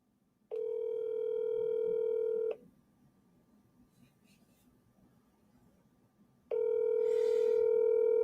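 Phone call being placed: two long bursts of steady dialing tone with harmonic stacks, separated by a quieter gap of faint background hiss, each burst loud and even.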